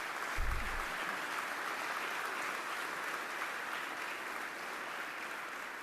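A legislative chamber audience applauds the new Arkansas governor's speech, steady broad clapping that rises quickly after a low thump and holds at an even, moderately distant wash throughout.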